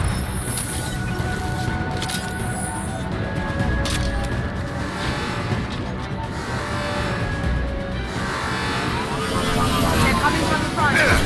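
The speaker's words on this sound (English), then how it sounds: "Gunship's back and with full shields." Heavy droning engine of a gunship hovering overhead during a Mass Effect 2 firefight, a steady loud roar with scattered booms and gunfire, voices talking over it.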